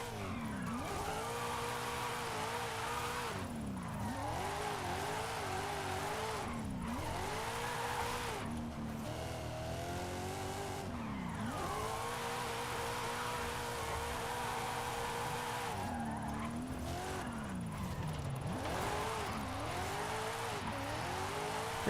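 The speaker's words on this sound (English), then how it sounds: "Drifting down the mountain is just so much more fun than drifting up it." A car drifting down a mountain road in Forza Horizon 5, the engine revving and dropping in repeated swooping pitch sweeps with tire squeal between gear changes, steady and fairly quiet throughout.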